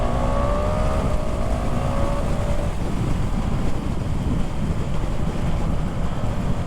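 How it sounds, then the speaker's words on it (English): A stock supermoto motorcycle, a GasGas 700 or Hypermotard 698 Mono, downshifting: a steady, loud engine roar with falling tonal sweeps in the first seconds as the revs drop, heavily buffeted by wind noise. "Oh, even down the gears. I like on the downshift, it's great."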